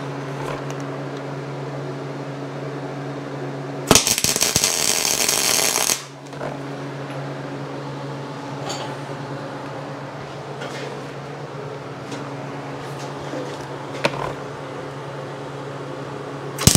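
Welding on a shop hydraulic press frame comes as a loud two-second burst of harsh crackling buzz. Before and after it a steady electrical hum drones, with faint scattered clicks from the shop.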